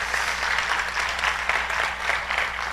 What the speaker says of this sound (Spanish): Denle un aplauso al Señor si quiere hacerlo.